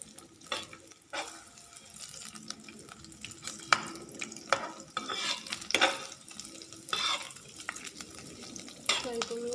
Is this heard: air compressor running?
no